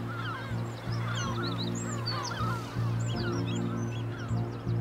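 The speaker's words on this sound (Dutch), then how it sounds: "Er is wat verstoring daar gaande in de meeuwenkolonie." A gull colony on the Frisian Wadden coast, disturbed by a large bird of prey circling overhead: many overlapping calls and squawks from numerous birds, dense and continuous over a steady low drone.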